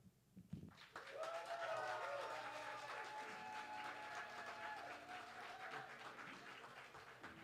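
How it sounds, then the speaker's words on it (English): A crowd at the Berkeley Slam gives a slam poet sustained applause, a thick wash of clapping that swells quickly and stays strong for several seconds, with raised voices cheering through it. "Keep that round of applause going for Win."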